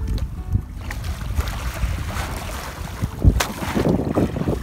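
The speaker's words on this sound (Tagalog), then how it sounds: "masyadong malakas ang hangin" Strong wind buffets the microphone over the churn of rough sea water and a fishing boat's hull, loud and continuous, with no voices.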